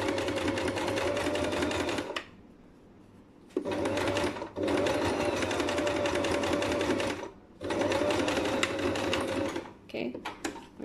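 A sewing machine runs in steady bursts while stitching a sleeve placket, a close, loud whirring hum broken by short pauses and a few quick stops near the end.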